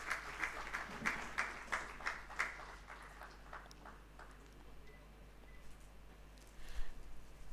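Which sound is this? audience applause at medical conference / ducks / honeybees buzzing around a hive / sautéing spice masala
audience applause at medical conference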